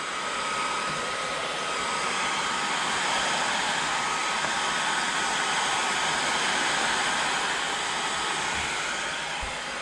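Heat gun blowing hot air on vinyl graphics for a YFZ 250F, a steady, even whooshing hiss that holds constant and fairly quiet throughout.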